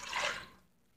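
Water is poured into a blender holding crumbled tofu, a brief close splash and trickle that fades within half a second into near silence.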